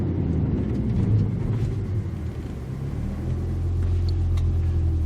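A 2021 BMW M3 Competition's engine and exhaust sound as a steady, deep low rumble, close and continuous, holding even loudness throughout with no talk over it.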